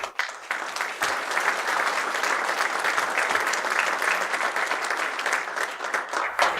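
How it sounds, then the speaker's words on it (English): An audience breaks into a full round of applause at an honors event, a steady, dense clatter of many hands holding at an even level for several seconds. "You all deserve a huge round of applause and support for everyone"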